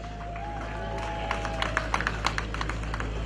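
A graduation ceremony audience breaks into scattered applause, sparse claps growing into a brief burst of moderate hand-clapping in a large hall, with faint tonal sounds and hum underneath.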